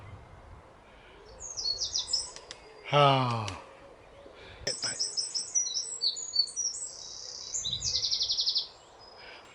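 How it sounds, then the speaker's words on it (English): Bird song heard outdoors: a sharp trill followed by a run of bright, rapid chirping phrases, fairly close and clear, with a brief breathy exclamation from a person partway through. "Oh, you hear that beautiful bird?"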